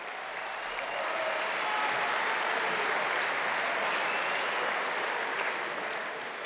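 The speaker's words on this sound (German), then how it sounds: "Applaus" Sustained audience applause fills a hall during a CSU political Ash Wednesday speech by Horst Seehofer, a steady, loud wash of clapping lasting several seconds with no talk over it.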